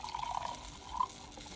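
Full fat milk trickles faintly into a pan, a quiet, short liquid pour with a couple of gentle gurgles.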